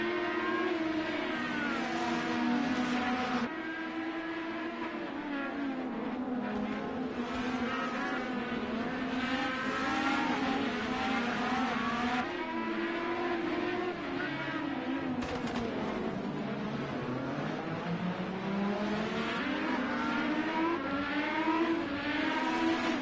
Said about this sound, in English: Contact has been made on the outside of the turn though, but Val stays ahead.